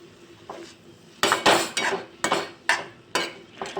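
A spoon stirs moth bean curry in a metal pan, sending out a series of sharp, close clanks and scrapes against the pan about twice a second after a quieter start.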